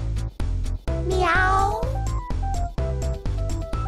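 A female character's voice in BlazBlue: Cross Tag Battle imitates a cat, giving one loud, close, drawn-out meow with a rising and falling pitch, set among choppy game sound effects.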